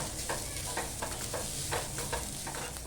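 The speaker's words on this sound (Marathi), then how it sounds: "ओलं खोबरं पण आहे ना छान गुलाबी होईपर्यंत परतून घेऊया" Freshly grated coconut roasts with onion in a pan, a quiet continuous sizzle under repeated light scrapes and taps of stirring, close and without talk.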